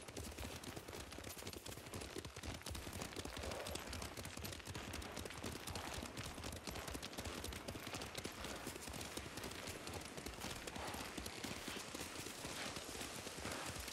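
Rapid, continuous hoofbeats of a galloping horse in Ghost of Tsushima drum steadily throughout, dense and busy with a noisy backdrop.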